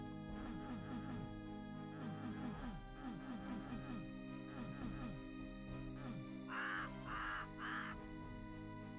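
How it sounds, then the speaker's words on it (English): Bird squawking in the video game Duke Nukem, repeated harsh caws over a steady background hum, ending in a few louder, brighter squawks. "Was the squawking of the bird the secret noise?"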